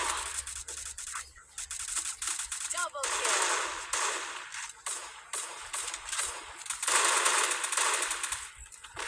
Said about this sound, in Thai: ไอตอนกระโดดยิงเนี่ยผมก็ยิงนะ แต่ยิงไม่โดน